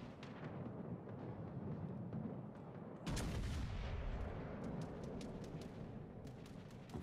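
Warship naval guns firing in World of Warships: Legends, a muffled boom with rumble at the start and a heavier salvo around three seconds, over continuous low game noise.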